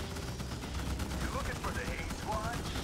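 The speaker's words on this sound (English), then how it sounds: "Open fire those guys." Dense automatic gunfire in the video game Starship Troopers, a steady loud barrage of shots with bursts overlapping, plus faint radio-like chatter and voices in the background.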